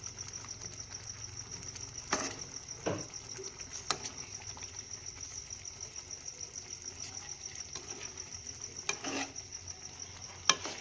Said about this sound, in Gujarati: હવે મિત્રો આને હલાવી નાખશું આ રીતે